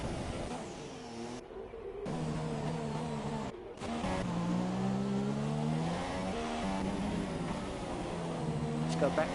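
A Formula 1 car engine from the F1 2017 racing game, Bahrain circuit, screams through a hot lap with rising and falling revs, two brief cuts to silence, and a commentator talking over it.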